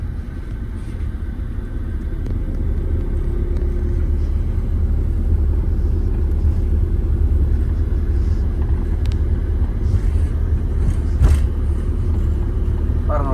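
A car moving slowly in third gear at about 1000 rpm on a hill road, with a steady low engine rumble that holds even throughout, heard from inside the cabin.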